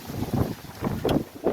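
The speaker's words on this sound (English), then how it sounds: "Oh boy, it's windy." Wind gusts buffeting the microphone in a few low rumbling bursts over a short span, close and fairly loud.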